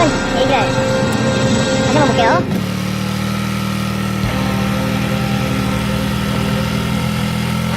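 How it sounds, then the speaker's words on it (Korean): A Honda Super Cub motorcycle idles at a standstill with a fault that makes its RPM climb on its own, a close, steady mid-pitched engine drone that shifts in tone partway through, with a voice talking over it. "계속 RPM 올라가요 네 이거 문제 있네요"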